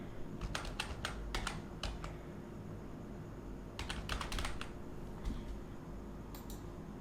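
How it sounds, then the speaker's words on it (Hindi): Computer keyboard typing as a name is entered into a web form, with two quick bursts of close, crisp keystroke clicks separated by a pause over a low background hum and no talking. "यहाँ पर अब मैं नेम टाइप कर लेता हूँ"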